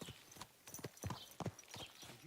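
Horse hooves clip-clop steadily as the horse is ridden in Kingdom Come Deliverance 2, with several sharp, close hoofbeats ringing out over a short stretch and a brief faint snort near the end.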